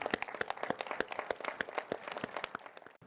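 Audience at an apartment report breakfast panel claps steadily for property management companies, a dense run of hand claps lasting about three seconds with no talking over it.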